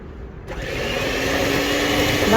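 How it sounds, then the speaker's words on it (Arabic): Electric mixer whisking butter, sugar and milk into cake batter, starting abruptly after a short quiet moment and then whirring steadily and loudly with a rising motor hum. "هفضل اخفقهم مع بعض لغاية ما يتجانسوا ال3 مكونات، الزبدة والسكر"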